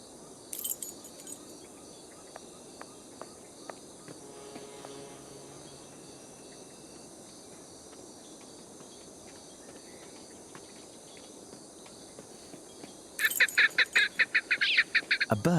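Birdsong in a Sherlock Holmes detective game set among trees: soft chirps and scattered calls over a faint insect-like hiss, with a louder burst of rapid chirping near the end.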